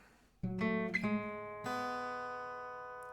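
Plucked acoustic guitar notes in standard tuning ring out one after another in a slow, clean riff, the last note left sustaining and fading, with no voices.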